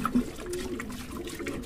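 Water solution being mixed in a container while preparing a treatment for pigeons, a steady close sloshing and swirling of liquid lasting under two seconds with no talk.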